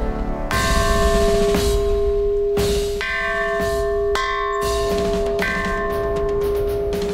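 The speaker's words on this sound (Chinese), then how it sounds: "只要有船靠近或离开，都要敲钟让岛上的人知道" A warning bell at a harbor lookout point on Dadan outer island is struck about five times at uneven intervals. Each clang rings with a long, sustained metallic tone that hangs over windy outdoor background noise.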